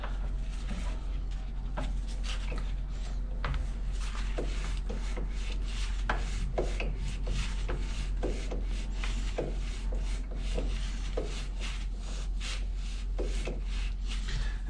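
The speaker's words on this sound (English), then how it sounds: "we're obviously using a taper tap for this" A taper tap grinds through a metal delete plate for a Toyota Starlet 4E-FE turbo build, a long, steady rasping scrape with faint irregular clicks under a constant low hum, no talking.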